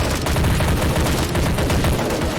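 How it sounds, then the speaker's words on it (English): DShK Dushka heavy machine gun in a battle simulation game, a loud rapid stream of heavy shots in a dense continuous burst, very close and with no talking. "There's a heavy machine gun in the centre. A Dushka."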